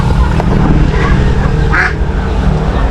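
Ducks quack amid a dense, steady barnyard din, one louder call standing out near the end.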